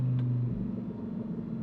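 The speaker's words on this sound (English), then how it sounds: "with that amazing V10. It makes lots of great noises" Lamborghini Huracan EVO V10 engine, a low droning hum that settles into a fluttering, rumbling idle, fairly muffled and steady throughout the short stretch.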